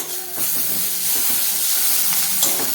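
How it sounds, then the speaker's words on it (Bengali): Garlic dropped into a hot frying pan for a snail curry gives a steady, close hiss and sizzle with a few soft stirring scrapes, without speech. "রসুনটা দিয়ে দিলাম"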